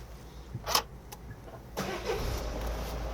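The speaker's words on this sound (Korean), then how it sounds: "시동도 상당히 부드럽고 깔끔하게 걸리고 있고요" An imported family SUV starts with a push button: a couple of soft clicks, then the engine catches quietly and settles into a low, smooth idle, heard close and faint without talk.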